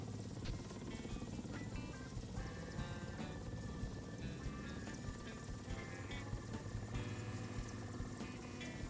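A helicopter in the War Thunder combat game flies with a steady, dense rotor and engine roar that stays loud and continuous throughout, with scattered higher mechanical and game effects layered over it.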